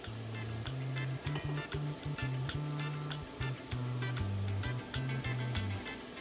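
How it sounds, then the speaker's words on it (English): Tomatoes and meat sautéing in a pan for a beef and okra stew, a close, steady sizzle broken by irregular stirring scrapes and clinks, with no talk. "I saute them together for a minute and add the meat."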